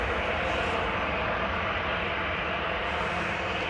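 A Finnair Airbus A319, a 20-year-old jet, sends a continuous broadband engine roar across an airport, holding steady and fairly loud for the whole stretch with no talk over it.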